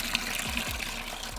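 Pond water drains into a 5-gallon bucket, a steady close trickle and gurgle of liquid with small splashing bubbles, continuous and moderately loud with no voices.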